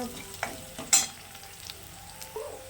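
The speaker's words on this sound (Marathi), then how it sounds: "येथे मी परतवून घेणार आहे कांदा लालसर व सोनेरी रंगा" Onion fries in oil in a pan for Kolhapuri vajadi rakti, a soft sizzle under a few sharp stirring scrapes and taps of a spoon, close and brief, with no voices.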